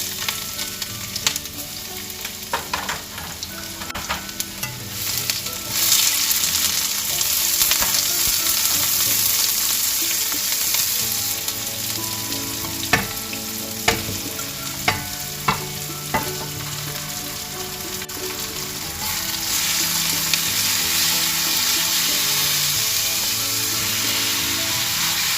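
Food frying in olive oil for fresh lumpia, a steady loud sizzle with stirring clatter and scraping throughout, swelling louder toward the end, with no voices.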